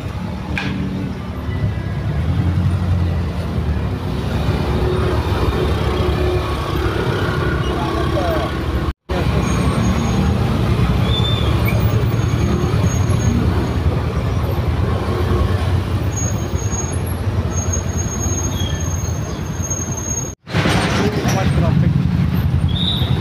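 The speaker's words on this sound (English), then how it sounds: "I saw the traffic everywhere." City road traffic in Aizawl, Mizoram: a continuous low rumble of engines and passing vehicles heard from close by, steady throughout with brief dropouts.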